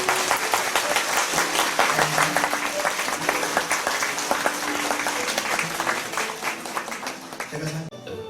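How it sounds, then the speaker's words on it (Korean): Wedding guests at a Christian ceremony held in a school applaud the newly declared couple, with loud, sustained clapping throughout and voices and cheers under it, easing off only at the very end. "우리 박수로 축하해 주시기 바랍니다."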